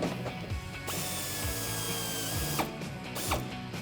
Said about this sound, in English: I switched over to a Phillips head socket to do the hardware that's included in the kit here.